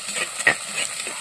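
Mustard seeds, cumin and urad dal sizzle briefly in hot oil for a tempering, a soft close crackle with a spoon stirring once.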